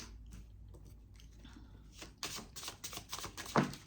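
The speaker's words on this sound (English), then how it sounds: "we're gonna go ahead and shuffle the cards" Deck of cards shuffled by hand at a tarot-style reading, soft riffling and flicking at first, building into sharper bursts of card snaps toward the end, close up with no talk.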